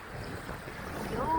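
Steady wind and surf wash along a breezy seashore at Tūja campsite in Jūrasdzeņi, a continuous broadband rush that swells slightly toward the end.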